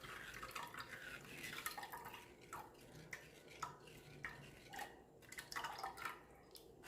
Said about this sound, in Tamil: அதனால தான் நம்ம வடிச்சுக்கலான்னு சொல்லிட்டு வடிக்கிறோம்.